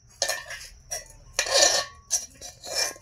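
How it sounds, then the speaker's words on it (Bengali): A spoon stirs cooked rice in a metal pot in a home kitchen, with several short scraping, clinking bursts separated by brief pauses, close and fairly quiet. "ভাতগুলো একটু নেড়ে দে"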